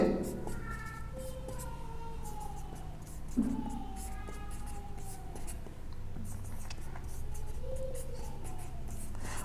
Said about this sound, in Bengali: আমি এখানে লাইনগুলো লিখতেছি